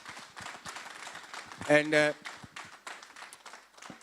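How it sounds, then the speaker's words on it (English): Audience applause for summit panelists erupts briefly mid-clip, a short loud burst of clapping between stretches of a speaker talking. "Guys, let's give our panelists a round of applause."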